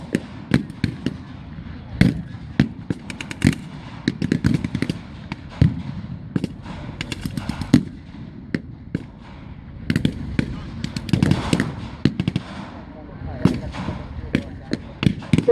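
Blank-fire gunfire from British airborne troops and German motorcyclists at a WWII battle reenactment, a dense run of sharp cracking shots in bursts and singles over the whole stretch, with crowd murmur and voices in the background.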